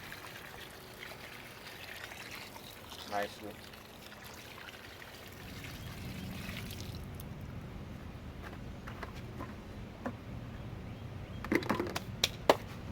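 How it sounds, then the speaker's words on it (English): A gallon of water trickles and pours steadily over a bucket of planted potatoes, a soft continuous stream with a few light knocks and a brief spoken word. "I'm gonna pour the whole gallon over this whole bucket."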